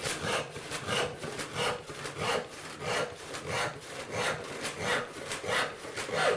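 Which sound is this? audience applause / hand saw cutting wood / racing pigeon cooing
hand saw cutting wood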